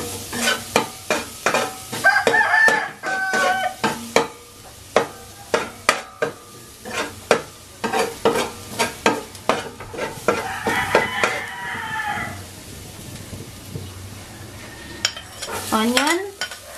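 Garlic fries in a pan for a cheesy beef caldereta while a utensil stirs it, making rhythmic scraping strokes against the metal over a soft, continuous sizzle, close and clear with no talking.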